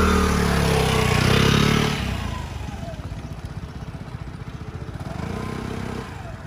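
A scooter engine revs loudly and steadily as it rides off, then drops to a lower putter as it slows and stops on the rear brake, with the engine still running at the end.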